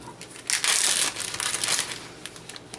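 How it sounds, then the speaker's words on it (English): A big plastic bag crinkles and crumples in bursts for a few seconds, loudest early on, then settles into softer intermittent rustles, close up with no talk. "I'm going to put one in a big plastic bag"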